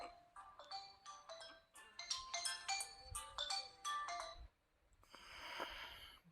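A mobile phone ringtone chimes during a math lesson, a bright repeating melodic pattern of short tones for several seconds, then a brief pause and a burst of noisier sound before silence.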